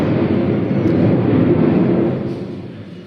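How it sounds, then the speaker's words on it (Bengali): A low, steady rumble of an airplane passing overhead on Independence Day in Bangladesh, fairly loud and continuous, fading somewhat toward the end. "এই জন্য বিমানের শব্দ পাওয়া যাচ্ছে"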